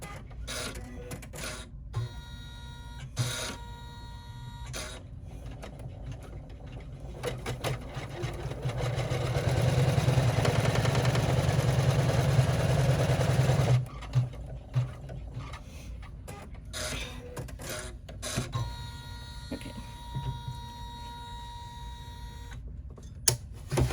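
An embroidery machine stitches a tack-down line on a mini rucksack backpack held in the hoop. It gives a steady mechanical whir and rapid needle patter that swells louder mid-way, with intermittent clicks and thumps around it.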